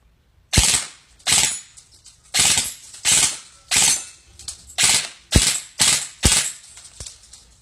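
Krytac PDW airsoft gun, Canadian version with a flat trigger, firing in full auto at roughly 18–20 rounds per second: about ten short, sharp mechanical bursts in an even rhythm, close and loud, with no talking.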